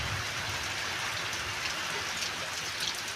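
Steady rain falls on cotton fields in Lilapur village, a dense, even hiss of drops close around with no voices.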